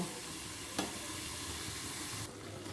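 Potatoes and pointed gourd frying with chopped tomato and green chili, a faint even sizzle with one sharp clink early on and a brighter hiss rising near the end.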